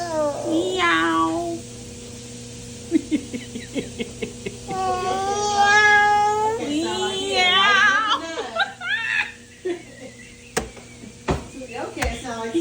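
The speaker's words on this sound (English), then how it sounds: "Cat? Meow." A cat meows several times in short, rising calls spread across the clip, close and fairly clear, with a person speaking between and over the meows.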